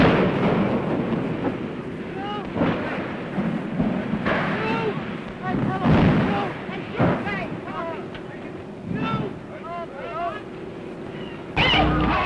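The Hindenburg airship burns and crashes in archival newsreel footage, a dense, rumbling roar of fire and wreckage with a crowd shouting and a narrator talking throughout.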